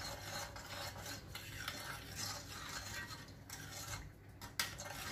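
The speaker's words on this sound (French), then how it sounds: "On mélange le tout." Quince tagine mixture stirred in a pot just after about half a tea glass of water is added, giving a steady close scraping, rubbing sound with small utensil clinks and a sharper knock near the end.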